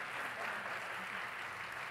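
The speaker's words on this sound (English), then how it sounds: "Let's give them a round of applause." A conference audience applauds the panelists after a plenary panel discussion, a soft, even patter of many hands heard from a distance for about two seconds.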